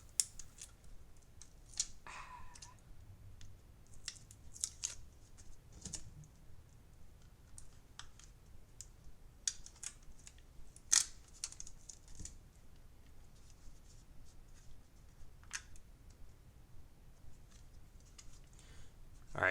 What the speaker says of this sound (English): Peel all this plastic off.